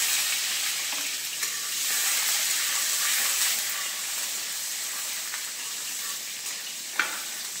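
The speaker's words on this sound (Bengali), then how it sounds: "তেল গরম হয়ে গিয়েছে, দিয়ে দিয়েছি 5 ফোড়ন, দিয়ে দিলাম পেঁয়াজ কুচি" Chopped onion frying with Bengali five-spice in hot oil, a steady bright sizzle up close with a few light stirring clicks and one sharp tap near the end, no voices.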